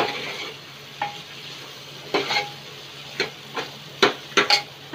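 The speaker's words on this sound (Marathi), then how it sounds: "व्यवस्थित मिक्स करून घेऊयात एकदा" A spoon stirs garam masala into a Konkani-style black pea curry in hot oil, with a soft sizzle beneath and several sharp scrapes and clinks against the pan, growing more frequent toward the end.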